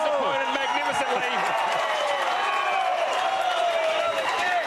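A crowd at an Australian football match in the Men's Premier League qualifying final, Southern Districts against Tiwi Bombers, roars steadily after a goal, with a voice talking over the noise throughout.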